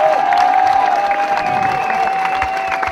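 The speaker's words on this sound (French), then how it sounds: "applaudissez-le." An audience at a combat-award presentation claps and cheers steadily throughout, with a sustained tone ringing over the crowd noise.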